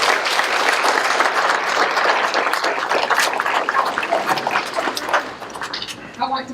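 A graduation ceremony crowd for GED graduates applauds in a full, loud round of clapping, with a few voices mixed in, tapering slightly toward the end as the speaker resumes.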